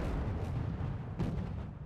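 Distant artillery cannons fire in a wargame battle, heard as low, muffled rumbling booms that stay faint and continuous for the whole stretch.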